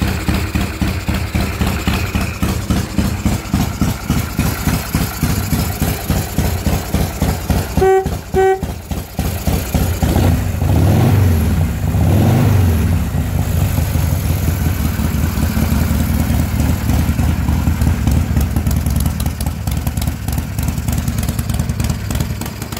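A 1977 Harley-Davidson FLH Shovelhead motorcycle idles steadily in a loud, uneven loping thump close by, with a brief horn toot partway through, then the engine swells into a couple of revs before settling back to idle.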